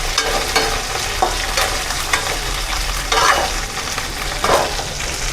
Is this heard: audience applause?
no